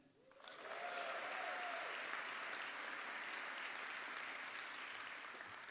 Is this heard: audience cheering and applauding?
yes